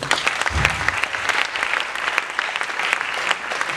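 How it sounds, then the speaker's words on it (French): An audience at a braille writing competition for blind participants, organized by an NGO, breaks into applause, a steady, close wash of many hands clapping throughout. "Je pense que nous pouvons applaudir."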